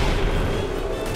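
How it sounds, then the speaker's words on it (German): A turret blows up in Guild Wars 2, giving a loud, dense rumbling explosion that fills the whole moment with no pause and no speech. "muss ich ihn explodieren lassen, indem ich ihn zünde"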